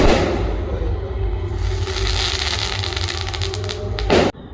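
Firecrackers going off at a Marathi home celebration, a dense continuous crackle of rapid pops and bangs layered over low rumble, ending in a louder burst before cutting off.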